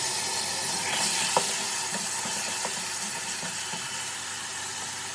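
Chopped tomatoes sizzle in a pressure cooker after a splash of water, cooking down for a moong and masoor lentil dal; a steady, close frying hiss runs throughout with a few soft stirring clicks.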